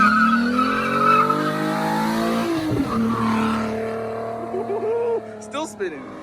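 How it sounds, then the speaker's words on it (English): A turbocharged S52-engined BMW E30 spins its tires in a burnout. Tire squeal and a revving engine are heard close up, and the squeal breaks into short bursts near the end. "I think I'm gonna have to do a burnout."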